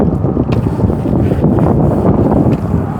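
Strong wind blows on a cold evening at a rural home in Thailand, a loud continuous roar and buffeting across the microphone with no pauses.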